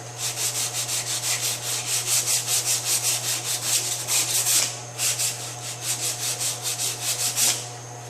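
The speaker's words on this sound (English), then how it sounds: "And I'll try to get some of this 80 grit out of top filler." Sanding 80 grit body filler on a 2005 Honda S2000 body panel by hand produces rapid, rhythmic back-and-forth rasping strokes, close and loud, with a short pause midway, over a steady low hum.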